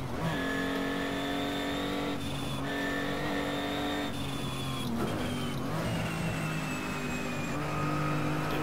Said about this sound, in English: Bit of an over rev again there.